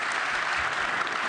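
Audience applause at a pre-World Cup FIFA gathering in Vancouver: a dense, even wash of clapping from a large crowd, sustained and somewhat distant, with no pauses.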